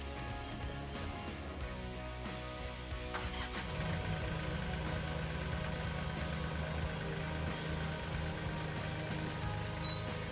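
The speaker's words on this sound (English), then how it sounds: "we're just going to go ahead and back the tractor away" An LS tractor engine runs steadily as the machine backs away, a continuous low mechanical rumble that grows slightly louder and heavier after a few seconds, with no talking.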